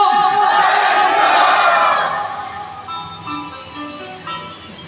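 A large audience at a Ram Katha religious gathering roars and shouts loudly together for about two seconds, then the noise fades into scattered voices and murmur.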